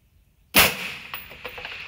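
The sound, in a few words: rifle shot fired at long-range target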